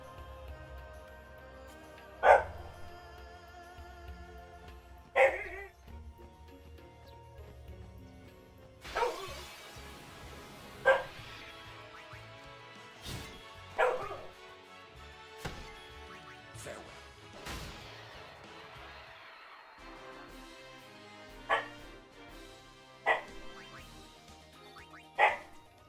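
A small, vocal corgi barks in sharp, separate outbursts, about a dozen loud yaps spaced irregularly over the stretch, with quieter indoor room sound between them.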